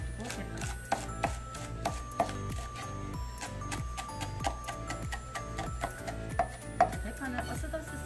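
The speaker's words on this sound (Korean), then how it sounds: "대파는 어슷어슷 썰어야지 심이 있고요." A knife slicing green onion diagonally on a cutting board for quick tteokbokki, steady rhythmic chopping taps, roughly two or three per second, close and clear with faint kitchen background.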